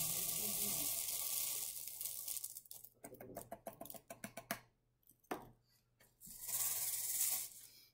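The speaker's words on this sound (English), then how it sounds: "pour our water beads into the empty water bottle" Small water beads poured into an empty plastic water bottle, a fast run of rattling, pattering ticks that start dense, thin into separate clicks, then burst again near the end, close to the microphone.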